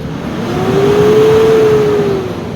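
Mitsubishi Strada 2010 4M41 turbo diesel engine revved to 4,000 RPM, a steady rising mid-pitched drone that swells, holds for about two seconds and eases back, alone without talk.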